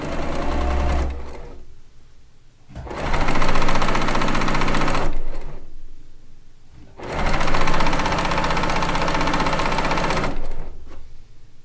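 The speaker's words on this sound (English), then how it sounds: "I think my bobbin is getting low because the sound of the machine just changed a little bit." A sewing machine runs in two long, steady bursts of rapid stitching on a quilt top, separated by brief pauses, with a low mechanical hum underneath; the sound shifts slightly as the bobbin runs low.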